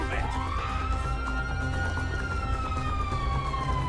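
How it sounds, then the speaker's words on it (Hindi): A police car siren in GTA 5 wails steadily with a slowly rising and falling pitch over a constant low engine rumble, continuous throughout. "ये तो पुलिस की गाड़ी तो आती ही जा रही है।"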